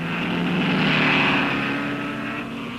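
Aston Martin DBR1 race car pulling away at the 1959 Nurburgring 1000 km, a loud, close engine roar swelling over a couple of seconds then easing slightly as it departs.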